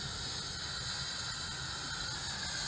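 Steam hisses steadily from a wood-fired rocket stove steam boiler during testing, a constant broadband rush that stays even and fairly close for the whole stretch, with no voices over it.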